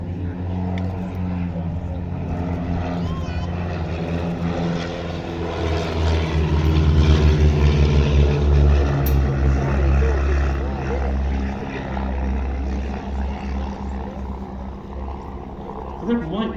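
A de Havilland Chipmunk propeller plane passes overhead at the East Kirkby airshow, its steady engine drone swelling louder mid-pass and then easing off, with faint talk in the background.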